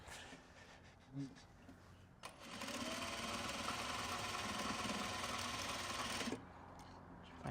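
A sewing machine stitching fabric for Japanese-style box bags runs in one steady, loud burst of about four seconds, with quieter handling noises before and after.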